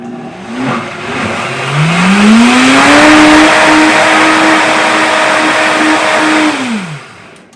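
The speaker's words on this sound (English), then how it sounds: "Let's blend and taste." Blender running on a peanut flour protein shake sweetened with stevia, motor whirring up to a steady high speed and holding for several seconds before spinning down, loud and alone with no talk.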